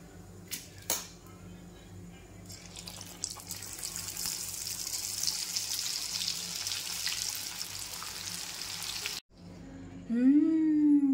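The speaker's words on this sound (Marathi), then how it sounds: "आता चला बाकीच्या पण पटपट तळून घेऊया." Taro-leaf alu vadi slices fry in hot oil, giving a continuous broad sizzling hiss that holds steady for several seconds, breaks off briefly, then resumes with a louder tone over it.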